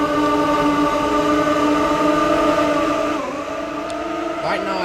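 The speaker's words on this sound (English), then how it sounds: "Leaving Dover Junction in a Class 325 GCR mail train." A Class 325 mail train departs Dover Junction in the Grand Continental Railways game, a loud steady electric drone with layered tones that dips in pitch partway through while a voice talks over it.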